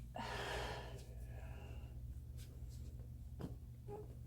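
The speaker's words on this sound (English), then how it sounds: "Deep breath in, all the way out." A deep inhale and long exhale during a chiropractic adjustment, breathy and close, with a sharp gasp-like intake at the start followed by softer airflow over a steady low hum.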